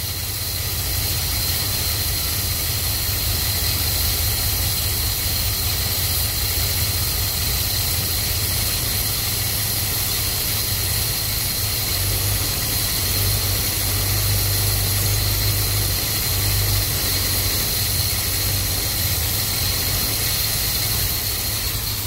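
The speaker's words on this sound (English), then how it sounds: "All right, the idle got better by taking away fuel." A car engine fitted with a Holley carburetor idles steadily and loudly nearby during an idle mixture adjustment, a constant drone with no break.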